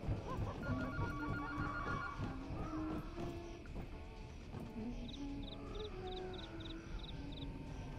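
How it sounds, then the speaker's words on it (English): A telephone in the video game Once Human rings in short repeated bursts, a series of bright trills spaced evenly over a busy layer of game sound and music. "That phone will ring in a sec once we run down here."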